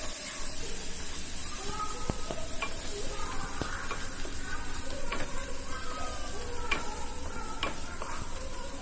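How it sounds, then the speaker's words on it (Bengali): Spices frying with turmeric and salt in a pan for a potato and pangas fish curry, stirred steadily: a continuous sizzle and hiss with repeated scraping clinks of the spoon throughout. "এই সব উপকরণগুলো ভালো করে নাড়াচাড়া করে ভেজে নেব।"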